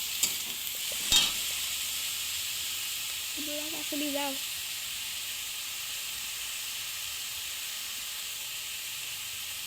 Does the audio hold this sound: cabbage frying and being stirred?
yes